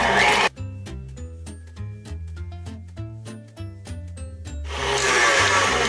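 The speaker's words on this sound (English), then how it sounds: "So we will turn on the mixer to incorporate the vanilla into the butter." An electric stand mixer beating vanilla into butter for buttercream icing whirs loudly in two short bursts, one at the start and one at the end, with music playing in between.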